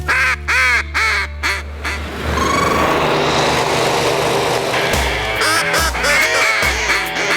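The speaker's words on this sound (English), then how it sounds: "I learned how to blow a duck call when I was 10 years old." A duck call blown in a run of loud, rhythmic quacking bursts at the start, followed by a dense, noisy mix that carries a few more fainter call notes.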